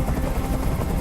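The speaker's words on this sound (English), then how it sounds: "I can't stand that noise anymore! Tell that helicopter to get out of here!" Helicopter hovering overhead during a hostage scene in the video game Detroit: Become Human, a steady low rotor drone that is loud and continuous throughout the short moment, with no talk over it.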